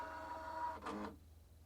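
Husqvarna Viking Designer I embroidery arm calibrating, a faint steady motor whir with a short higher servo sweep in the middle before the hum drops away.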